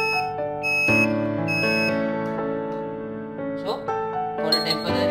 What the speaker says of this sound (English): For now, I'll just switch off the buzzer